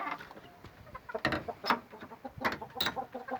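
Chickens at a farm where Aseel-type fowl are kept cluck in short irregular bursts, fairly close, with a few louder squawks over a scratchy background.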